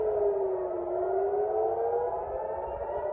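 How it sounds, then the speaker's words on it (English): A loud air raid siren in Israel during an Iranian missile attack wails continuously, its pitch slowly sliding down and back up, with no talking. "Sirens were blaring across Israel"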